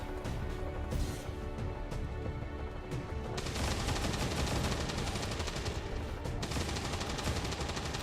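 A squad gunner in the turn-based strategy game Long War 2 fires a long automatic burst, a dense, loud stream of rattling gunshots that swells and carries on for several seconds, with scattered single cracks before it.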